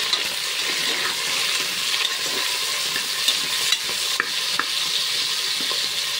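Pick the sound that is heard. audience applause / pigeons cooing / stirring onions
stirring onions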